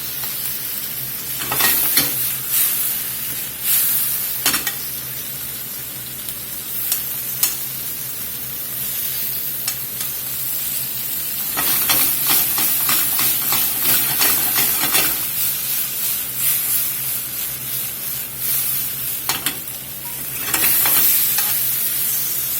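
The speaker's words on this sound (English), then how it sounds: "it keeps the garlic from burning while we get this bok choy cooked" Bok choy and garlic sautéing in a hot pan, a continuous sizzle broken by repeated bursts of louder hissing and scraping as the greens are stirred and tossed, with no talking.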